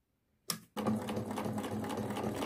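A sewing machine runs steadily, stitching fabric a millimetre from the folded edge of bias binding, starting after a short click and continuing as a dense, even whir.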